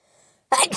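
Cartoony "ah-choo" sneeze: a faint breathy intake followed by a loud, sharp two-part burst, close and alone.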